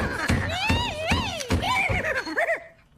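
A man imitates a horse with his voice, repeated whinnies and neighs, loud and close, rising and falling in several bursts before trailing off.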